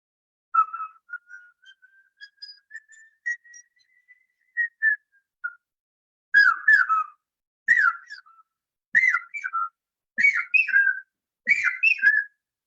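A person whistles an imitation of the common hawk-cuckoo's call. A long, slowly rising thin note and short fragments come first, then six loud, evenly spaced bursts of sharp, piercing whistled phrases, alone in a quiet setting.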